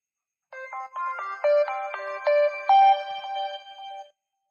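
A Marcel D51 mobile phone plays its ringtone, a clear melodic sequence of bright electronic tones in a steady rhythm, loud and close with no talking.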